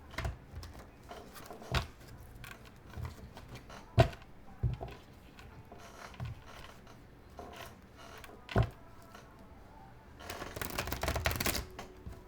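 Tarot cards are handled and shuffled with scattered clicks and snaps, ending in a longer riffling burst near the close; close and fairly quiet.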